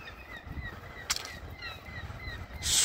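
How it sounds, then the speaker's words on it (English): Seagulls squawking near the lakefront in downtown Sheboygan, a few faint calls scattered over steady outdoor wind and city ambience, heard from some distance. "Here's seagulls."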